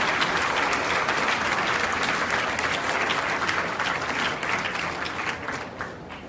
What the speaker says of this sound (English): another round of applause for everyone receiving the award